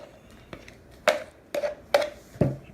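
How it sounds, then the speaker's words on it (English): A utensil knocks and scrapes against a bowl while mixing protein pancake batter, in a handful of irregular strokes, close and moderately loud, with no talking. "And as you mix it, it becomes thicker."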